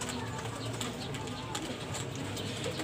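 Pigeons coo softly at a steady level while feeding on rice and corn, with faint pecking and shuffling mixed in throughout.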